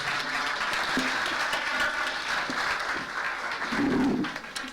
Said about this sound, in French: vous pouvez les applaudir s'il vous plaît